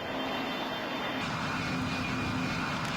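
An airplane descending on approach gives off a steady, loud engine roar with a continuous broadband rush and no breaks.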